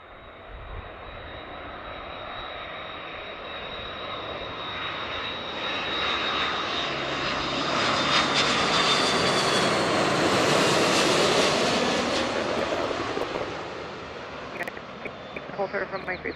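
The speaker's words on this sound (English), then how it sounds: "A330 from Dublin, Aer Lingus" Aer Lingus Airbus A330 from Dublin on final approach, a loud, steady jet roar that swells gradually as it nears, peaks, then eases off, with faint talk under it.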